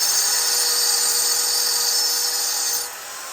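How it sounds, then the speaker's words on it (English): A saw screeches continuously, high and harsh, cutting through a closet rail bar before winding down near the end. "Now I'm gonna cut my bar and I'll be right back."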